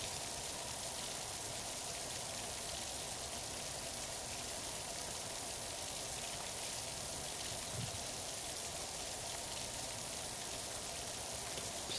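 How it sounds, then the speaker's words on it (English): Gentle rain falls steadily in the video game Power Wash Simulator, a soft, even hiss of drops spread evenly across the whole stretch, with no talking over it. "Just a nice, gentle rain sound."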